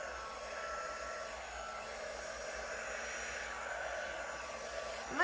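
A heat gun runs with a steady, fairly quiet airy whoosh over acrylic swipe paint, holding even throughout before a brief bump at the very end.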